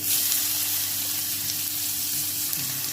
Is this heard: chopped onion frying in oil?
yes